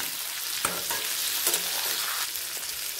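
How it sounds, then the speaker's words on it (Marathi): Stuffed eggplant sizzles steadily as it sautés in hot oil, with a broad crackling hiss throughout and a few sharp spatula taps and stirring scrapes close by. "आता हे तेलामध्ये व्यवस्थित अशी परतून घ्यायची"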